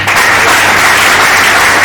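Political party meeting audience applauding, a loud close wall of clapping for the full short stretch.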